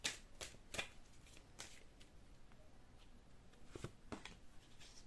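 Oracle cards shuffled by hand in a quiet room: a run of crisp riffling bursts at the start, a pause, then a few more rapid shuffles, close and fairly soft with no voices.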